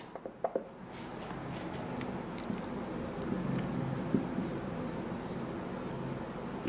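A pen scratches steadily across paper while writing out a math solution, a close, continuous soft scribbling with a few small taps at the start.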